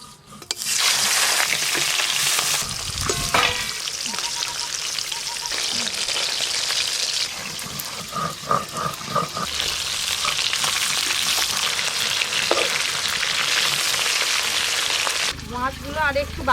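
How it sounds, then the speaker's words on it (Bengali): Pieces of fish fry in well-heated oil, a loud continuous sizzle and crackle with stirring noises, while people talk intermittently over it. "তেল কিন্তু বেশ ভালো করে গরম হয়ে গেছে, এবার মাছগুলো ভাজা করব।"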